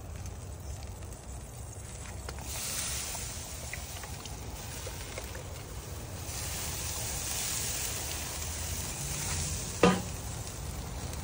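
Triple cheese burgers with Worcestershire sauce sizzling on a Weber grill outdoors, a continuous soft crackling hiss under faint wind with a sharp click near the end.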